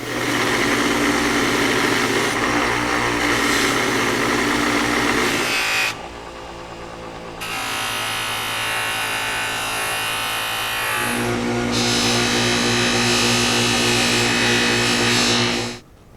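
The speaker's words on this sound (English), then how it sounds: "I'm just going to continue wire wheeling this" A wire wheel scours parts from a 1960s Craftsman drill press, giving a loud, steady buzzing whir that drops to a lighter tone for a few seconds mid-way, then returns at full strength before stopping.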